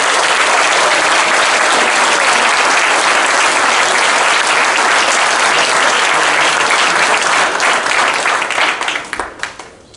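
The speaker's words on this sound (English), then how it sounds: "Let's give him a round of applause now." A dinner-party crowd at a men's basketball pre-game event gives a guest a round of applause, loud sustained clapping from many hands that fills the room, then tapers off and fades out near the end.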